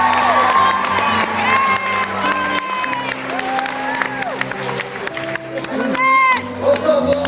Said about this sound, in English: Can you give him a huge happy birthday round of applause?